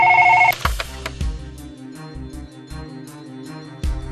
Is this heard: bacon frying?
no